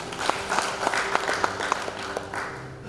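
Wedding guests clapping at a church ceremony, moderately faint and steady, with a few sharper individual claps standing out over a sustained hum of room tone and some voices.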